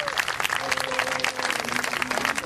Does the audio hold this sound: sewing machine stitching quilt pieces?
no